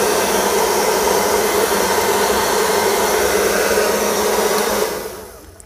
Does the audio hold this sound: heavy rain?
no